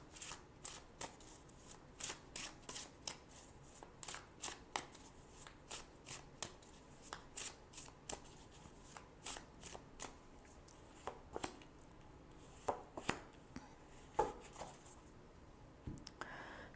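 Tarot cards are shuffled by hand in quick, steady riffling flicks, soft and close, running continuously with a few sharper snaps near the end and no talking.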